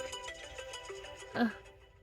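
A mobile phone ringtone plays a soft, tonal electronic melody, with a brief louder chime near the end, alone at moderate distance.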